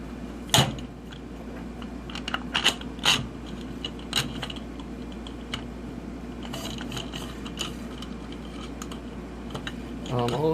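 Hex bolts and thin-profile lock nuts are tightened on a 1/6 scale Sherman tank suspension, giving sharp metallic clicks and ratcheting ticks at irregular intervals over a steady low hum.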